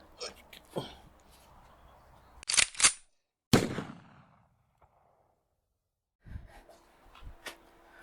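A MAS 36 rifle fires during a rapid-fire shooting test, with a few sharp loud reports spaced seconds apart and quieter handling clicks and background noise between them.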